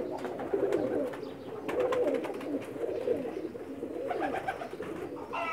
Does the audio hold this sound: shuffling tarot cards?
no